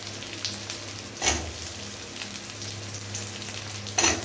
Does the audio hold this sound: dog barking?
no